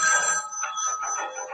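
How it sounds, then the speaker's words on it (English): A telephone bell rings with a bright, shrill metallic trill, a single ring burst that fades slightly toward the end. "Your phone's ringing."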